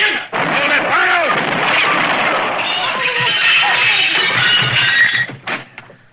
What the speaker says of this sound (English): He tried to shoot Killian in the back.